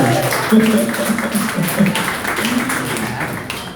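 A comedy show audience applauds and cheers in a dense, steady wash of clapping from a live crowd, with a voice speaking over it.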